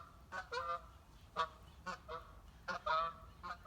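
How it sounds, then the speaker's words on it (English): Several geese honk in a loose, irregular series of nasal calls, fairly close, over faint background noise. "Those geese are noisy."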